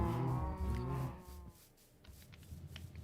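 Cows in Minecraft give a single drawn-out moo up close, followed by quieter shuffling and soft clicks.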